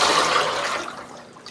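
Liquid black clay slip pours into a pottery piece as a steady wet rushing stream that gradually thins and fades over a second and a half, with no voices.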